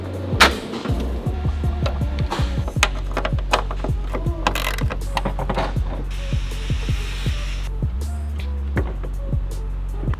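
A hand ratchet clicks in quick bursts while fastening nuts on a BMW X3 35i taillight, sharp rapid pawl ticks close by, pausing and restarting several times with light handling noises between.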